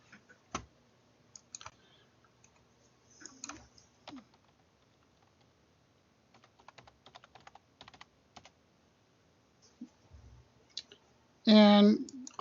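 A computer mouse gives sparse, crisp clicks, single and in short clusters, close and fairly quiet. A brief voice sounds at the end.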